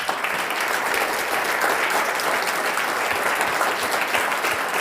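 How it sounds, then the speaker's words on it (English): A room audience at a talk on Balkan geopolitics breaks into sustained, dense applause, loud and steady for about five seconds, with no voices over it. "big round of applause to our speaker tonight"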